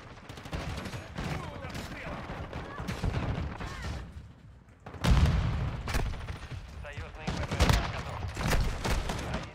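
Rapid bursts of gunfire in Call of Duty: Modern Warfare II, dense repeated shots with booms running through most of the stretch, briefly easing before a loud renewed volley.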